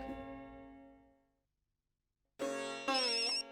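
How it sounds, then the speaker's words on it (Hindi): A phone call placed on speakerphone to the boss rings out: a sustained tonal ring fades away, a second of silence follows, then louder ringtone bursts with a rising melodic phrase return, close and clear. "अपना फोन निकालिए और अपने बॉस को फोन लगाइए।"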